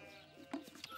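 A cartoon sheep bleats briefly, a short nasal sound up close rising toward the end, with a louder burst of sound cutting in at the very end.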